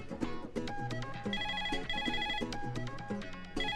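A telephone rings with a repeating electronic ringtone, its steady pulsing tones sounding loud and close with no one speaking over them.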